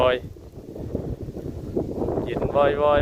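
Cool wind blows outdoors near water, gusting and buffeting the microphone in rough, uneven bursts while voices talk over it.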